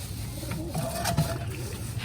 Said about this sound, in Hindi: ये एक लकवा कबूतर है जो कि ना हम सेल करेंगे।